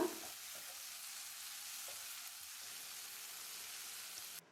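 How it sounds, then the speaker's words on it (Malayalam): Tomatoes sauté in a pan for a black pepper crab roast, giving a soft, continuous hiss of frying with a couple of faint stirring knocks, fairly quiet and steady until it cuts off near the end. "അപ്പോൾ തക്കാളി നന്നായിട്ട് വഴറ്റിയെടുക്കുക."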